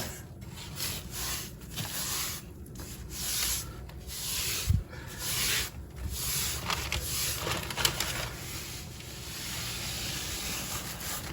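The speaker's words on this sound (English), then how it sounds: "Then I start to wipe this down, getting the rest of the excess grout" Damp sponge wiped across a tile backsplash to clear excess grout, giving steady close scrubbing and rubbing strokes with a few soft knocks, no talking.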